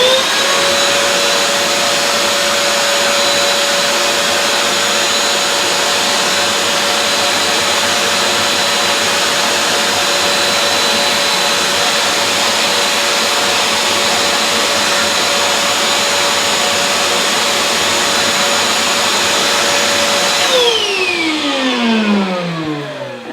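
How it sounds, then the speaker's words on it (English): A powerful shop vac blasts steadily on a feather from a distance, a loud continuous whine and rushing airflow that holds for about twenty seconds, then the motor pitch falls away as it spins down. "This has a lot of power, so I'm going to have to create a lot of distance between feather and shop vac."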